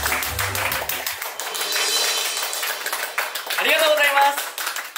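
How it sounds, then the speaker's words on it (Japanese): Clapping at a police station promotion scene in a playful skit, brief rapid claps mixed with voices talking over them. "拍手。"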